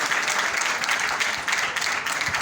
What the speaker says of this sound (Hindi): मैं चाहूँगी ऐसे गुरु के लिए जोरदार तालियां हो जाए